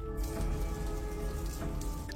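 Freezing rain falls in the dark, a dense, steady patter of drops striking surfaces, close and continuous, with no voices over it.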